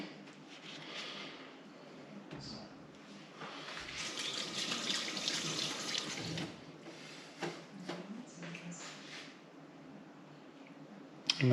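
Tap water runs steadily to rinse a bleached base part of a Franklin CX22 caravan water pump, a broadband splashing hiss that swells in the middle and eases off, close by with no talk.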